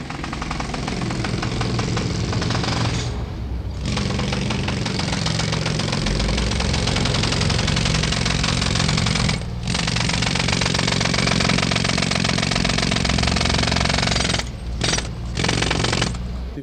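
Street driller breaking pavement on a city avenue near the 9th Avenue elevated line, a loud sustained rattling hammer with a few brief pauses between bursts, heard up close over street noise.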